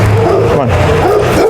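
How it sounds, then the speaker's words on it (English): A dog barking and whining close by, with yelping, rising and falling vocal tones over continuous talk from a person nearby. "we're really close to this barking dog"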